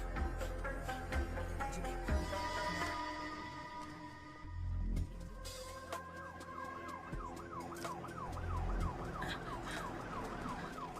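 Ambulance siren in a South Indian film scene, its wailing tone rising and falling steadily over about the last five seconds, layered under dramatic music and background noise.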